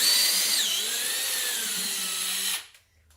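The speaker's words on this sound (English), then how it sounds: "Periodically pull the drill bit out and just check that you haven't gone too deep or close." A power drill whines at high pitch, its tone dipping as the bit bites into the metal of a Ford Barra engine, then stops abruptly near the end.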